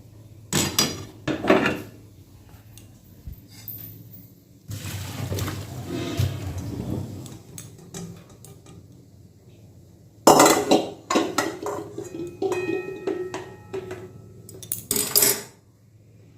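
Boiled banana flowers are drained of water in a metal pot, bursts of clanking and scraping metal with splashing, several separate loud clattering episodes between quieter pauses.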